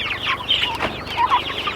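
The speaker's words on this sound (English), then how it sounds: "our pasture-raised chickens." Pasture-raised chickens cluck in bursts of short, fairly close calls, several birds overlapping and continuing steadily through the clip.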